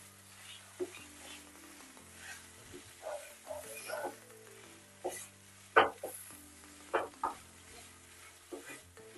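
Paneer chop spice stuffing is stirred in a kadai: a spatula scrapes and pushes through the thick mixture in irregular strokes over a low sizzle, with a few sharper scrapes standing out near the end.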